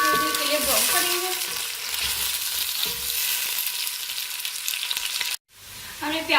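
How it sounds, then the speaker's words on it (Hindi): Chopped onions sizzle and fry steadily in a hot pan while browning for peas pulao, with occasional stirring scrapes, a short silent gap near the end, then the sizzle resumes. "प्याज ऐड करने के बाद हम इसे थोड़ी देर के लिए ब्राउन करेंगे।"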